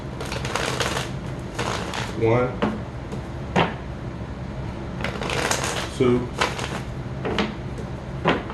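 Tarot cards being shuffled in several quick riffling bursts, with a person talking and counting between them.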